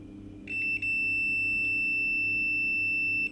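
A multimeter in continuity mode beeps across the third contact of a magnetic contactor, giving one sustained high electronic tone, close and clear, with a brief dropout near the start and a sudden stop, over a low steady hum.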